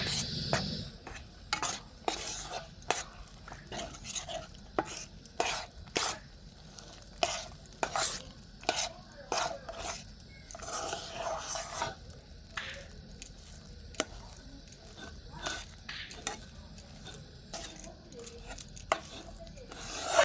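Rice flour being stirred and worked into a stiff dough in a pan, with repeated sharp scraping and thudding strokes of a spoon at an irregular steady rhythm, close and clear over a faint background hiss.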